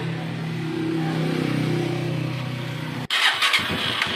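A Honda TMX125 Alpha motorcycle engine converted to 155 idles steadily and close up for about three seconds before the sound cuts abruptly to a brief, different clatter.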